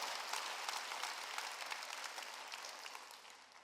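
A congregation in a Korean church service applauding together, a dense, even patter of many hands that holds steady before gradually thinning out.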